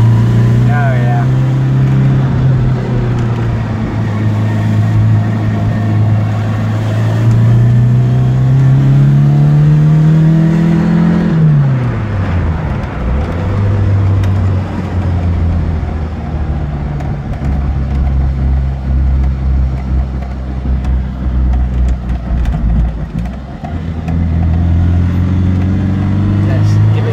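Small 1974 Fiat 128 SL coupe engine pulling up a short steep hill in second gear, a loud steady drone that rises in pitch, drops at a shift and builds again, with speech over it.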